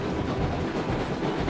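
A train in the video game Railroads Online pushes a long line of loaded cars toward a storage yard, a dense continuous rumble with rhythmic rail clatter.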